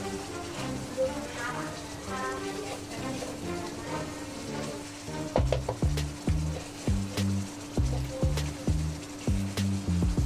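Red spice paste for tongkol fish, seasoned with salt, powdered stock and sugar, sizzles in a pan while being stirred, with rhythmic scraping strokes growing louder in the second half over a steady frying hiss.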